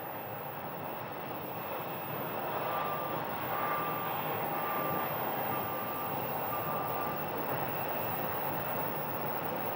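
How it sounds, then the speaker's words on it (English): An American Airlines Boeing 737 jet departs Phoenix Sky Harbor airport as a steady, distant roar that swells slightly midway and persists throughout without talk. "We have an American 737 here. Departing for Columbus, Ohio."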